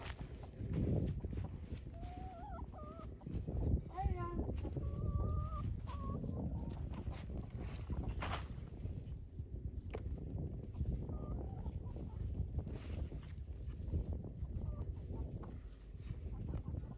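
Chickens cluck and murmur close by, with a few higher squawks scattered over steady background rustle and occasional faint voices.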